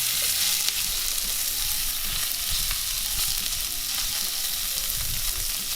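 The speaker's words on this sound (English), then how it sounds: "It's very key to keep stirring because you're cooking this at a very high heat" Beef tibs fry at very high heat in a cast iron skillet, a loud, steady sizzle with scraping stirs running throughout and no voices.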